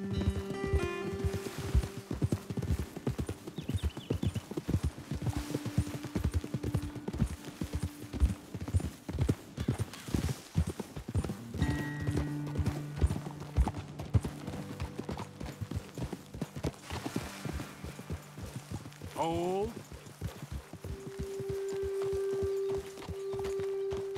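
Hooves clip-clop steadily as horses walk in Red Dead Redemption 2, a continuous rhythmic clatter with a low droning hum underneath and a brief rising tone near the end.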